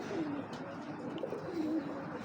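A caged pigeon coos softly a couple of times against a steady hiss of background noise, with no voices.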